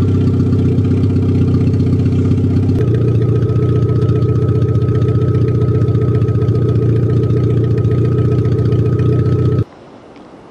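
A Geo car engine, fresh from an ignition coil replacement, idles steadily and loudly with a constant mid-low drone for most of the clip, then cuts off abruptly near the end.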